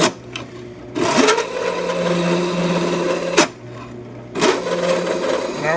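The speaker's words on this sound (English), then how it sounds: "Let's go ahead and chamfer the other ones." Chamfering quarter-inch holes in metal flush bolt security strike plates with a power tool, giving steady close grinding bursts interrupted by short gaps.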